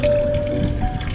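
Water runs steadily from the spouts of a sixteen-sided stone fountain in Dubrovnik, Croatia, a continuous close splashing rush with no breaks.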